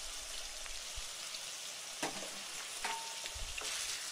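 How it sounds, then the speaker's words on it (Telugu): Chopped onions and green chilies sizzle as they fry with mutton liver in a pan, a steady crackling hiss broken by a few stirring clatters, close and with no talking. "ఇప్పుడు తరిగిన ఉల్లిపాయ ముక్కలు, పచ్చిమిర్చి కూడా వేసుకుని"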